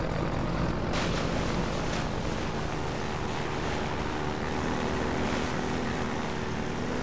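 A boat engine in the video game Half-Life 2 drones loudly and continuously, a rough, steady motor roar with a faint wash of water, no voices.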